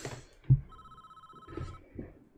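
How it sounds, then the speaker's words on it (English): An electronic landline-style phone rings in the prison-building game Prison Architect, one steady tonal ring lasting roughly a second, set among some thumps and low background noise from the game. "Sounds like he's trying to call me on a land cable, on a land phone."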